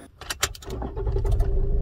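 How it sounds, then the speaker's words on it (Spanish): Keys jangle and click in a car's ignition, then the engine cranks and catches into a low, rising rumble, all heard up close in under two seconds. "intentaré encender el carro"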